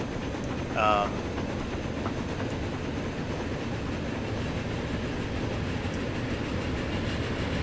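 A train rumbles steadily along the rails with a continuous low roar and faint rhythmic clatter; a short high tone sounds near the start.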